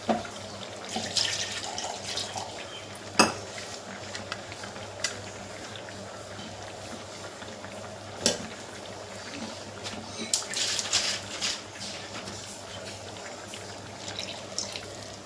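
Tap water runs and splashes into a pot being rinsed in a kitchen sink while cooking a Kerala ulli theeyal, with a steady close wash broken by sharp clanks and a few louder gushes as the water is poured out.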